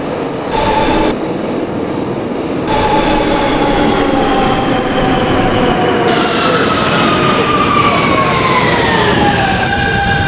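NYC Subway R160B Siemens N train bound for Coney Island in the OpenBVE simulator, its steady rolling rumble and motor whine rising in pitch as it runs, loud and continuous throughout.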